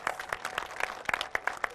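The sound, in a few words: audience applause for Ajmer city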